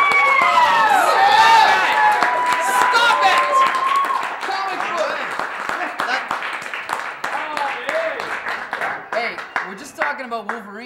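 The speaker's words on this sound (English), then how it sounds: "that's like the biggest applause ever in the history of the comic book syndicate" Audience applause at a comic book discussion show, loud clapping and cheering that starts dense and thins into scattered claps, with voices over the start.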